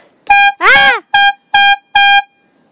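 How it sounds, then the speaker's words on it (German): A loud horn blasts five times in quick succession, the second blast wavering in pitch, each a short, brassy honk close by. "Also benutze deine Hupe."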